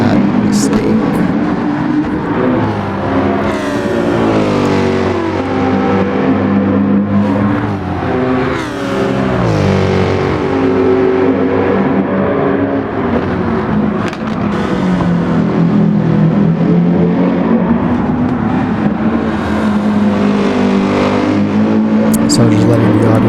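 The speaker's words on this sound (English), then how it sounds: "So just letting the audience listen to the cars there as they race around the track." Race cars in Gran Turismo 7 howl around Suzuka Circuit, loud engines rising and falling through gear changes as several cars run close together, with a commentator talking over the continuous roar.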